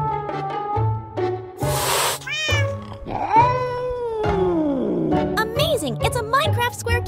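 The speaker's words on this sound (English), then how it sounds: "It's a Minecraft square cat. Kitty, calm down." The square cat in Minecraft meows several times in a row: short, bright, rising and falling cries, close and fairly loud, with brief gaps between them.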